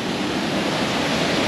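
A 73-metre waterfall at a tourist area in Vietnam roars as a dense, steady wash of falling water, loud and unbroken.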